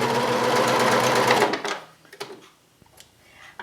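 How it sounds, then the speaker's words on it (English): A serger runs steadily for about a second and a half as it stitches straight through folded fabric, then stops, leaving only a few faint handling clicks and taps. "And then we're just going to sew straight through here."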